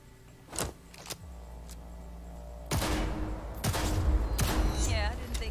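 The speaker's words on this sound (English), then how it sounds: "Let's blast through a tactical target practice program." Gunshots fired at targets in a tactical target-practice level of a shooter game, a few isolated shots at first and then a denser run of loud, close blasts, with game voices speaking in between.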